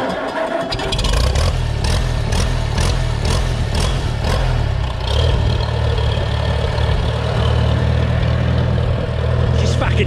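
A 1948 Farmall Super C tractor engine runs steadily up close, a loud continuous low rumble with rhythmic pulsing that holds for the whole stretch, without anyone talking over it.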